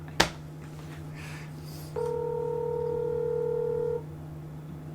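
A phone call rings out after dialing: a sharp click, then one steady ringback tone lasting about two seconds over a constant low electrical hum, with no one answering or talking.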